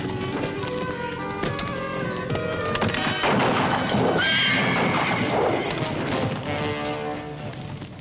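Horses whinny loudly near a wagon in a 1971 western film scene, with shrill neighs rising over clattering hooves and shuffling movement, and no talking.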